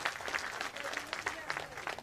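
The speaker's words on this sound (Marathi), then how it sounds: "पुरुषांनी टाळ्या वाजवल्या" A crowd at an outdoor political rally in Indapur clapping, a steady patter of many hands at a moderate distance, fairly faint and continuous, with a voice faintly heard beneath.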